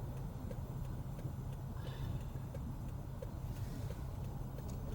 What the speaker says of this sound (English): Traffic is just non-stop right at this point.